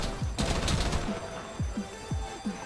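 Police fire on a bank in GTA V, heard as a rapid burst of sharp gunshots followed by scattered single shots over a steady background hum.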